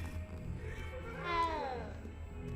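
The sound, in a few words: cat meowing in video game Hogwarts Legacy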